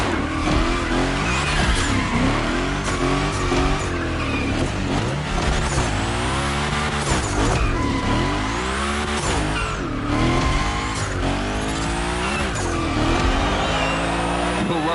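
The Hoonicorn in The Crew Motorfest howls through big gymkhana slides, its engine wailing and rising and falling while tires squeal steadily throughout, loud and close with no pauses.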